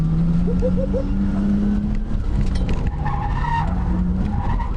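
A turbocharged RB25-powered R32 Skyline drift car skids with a loud, continuous tire squeal over a rising and falling engine note, close and dominant throughout the short burst.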